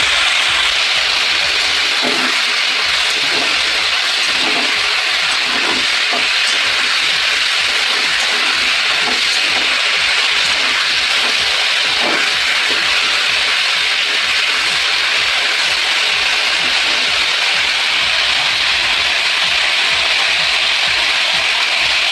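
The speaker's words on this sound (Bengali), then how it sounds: "নুন আর হলুদ দিয়ে ফুলকপিগুলো ভাজছি" Cauliflower florets frying in oil with salt and turmeric give a steady, loud sizzle and hiss that runs throughout, with faint scattered clicks of movement in the pan.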